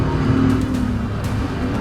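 A white car driving fast through an intersection, a steady close engine roar with road noise that holds loud and unbroken.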